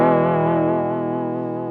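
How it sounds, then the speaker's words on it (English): Guitar through a Chase Bliss Warped Vinyl vibrato chorus pedal with dry signal blended in, a single sustained chord shimmering with wavering pitch and lush chorus, loud and alone, slowly fading. "We get kind of a chorusy effect when we blend in the dry signal."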